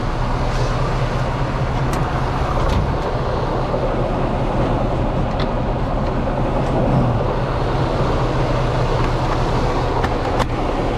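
A truck idles with a steady low rumbling engine drone, close and continuous, with a few faint clicks over it and no talking.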